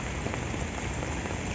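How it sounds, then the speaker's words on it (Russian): Heavy autumn rain in Moscow pours steadily with wind, a dense, even hiss of drops hitting the ground and surfaces, close and continuous with no talk. "Начался сильнейший дождь,"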